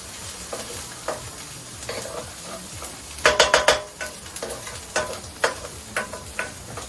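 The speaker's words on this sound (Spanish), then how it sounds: "Ya estamos dorando un poquitito nuestra cebolla, que recuerden que teníamos un poco de aceite de oliva" Chopped onion browning in olive oil crackles with a continuous sizzle, while a spatula scrapes and clacks against the pan in a loud cluster followed by scattered strokes.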